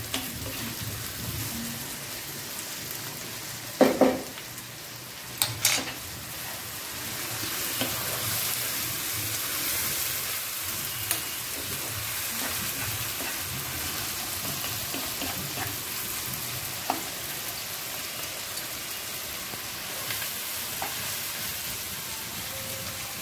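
Ginger tossed into a hot pan sizzles and fries steadily while dhaba-style egg tadka is cooked, with a few sharp stirring clatters near the start and a continuous crackling hiss throughout, no voices.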